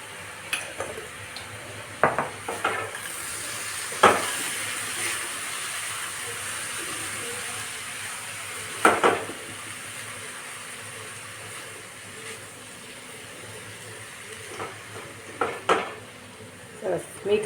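Soaked poha is stirred with salt in a pan, with soft scraping and occasional sharp clinks of the spoon against the metal over a faint sizzle, spaced irregularly through the stretch.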